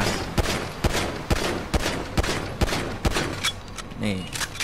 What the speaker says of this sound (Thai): ปืนแรกคือพิสโตนะครับพิสโต